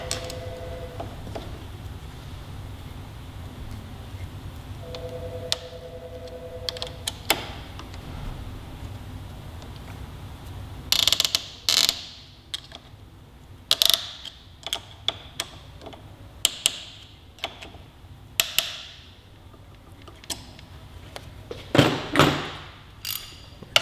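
Wrench work on the steering stem nut of a Yamaha R3 motorcycle: metallic ratchet clicks and taps come in scattered bursts, growing denser and louder toward the end, with a short hum early on.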